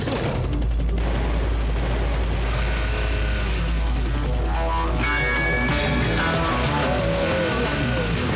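Cartoon helicopter flying, a steady loud rotor drone with a constant low hum and some rattling bursts running throughout, with no voices over it.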